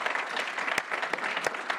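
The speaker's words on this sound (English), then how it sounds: "give them a round of applause" A conference audience claps for a tenure support team standing up to be recognised, a brief burst of dense applause with a few sharper nearby claps standing out.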